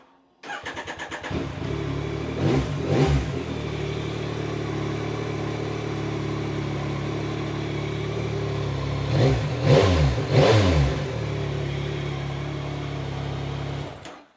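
A Yamaha XSR900 motorcycle with standard exhaust fires up close by and settles into a steady idle, broken by two sharp throttle blips early on and a pair of stronger revs near the end.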